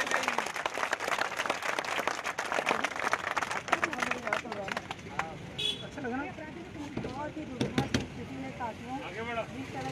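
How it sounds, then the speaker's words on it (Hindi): Outdoor crowd claps for Babu Bhai, a barefoot Corona warrior on his way to the CM house: scattered, fairly loud clapping at first that thins out as a voice talks over it. "बाबू भाई के लिए एक बार जोरदार तालियां"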